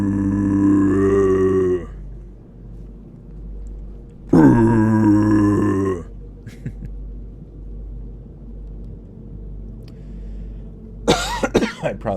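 A man does a screamo-style vocal imitation that comes out as a rough, guttural burp-like growl, two sustained bursts of a few seconds each with quiet gaps, then a short harsh noise at the end.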